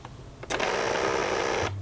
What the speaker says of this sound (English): Turn the printer on first.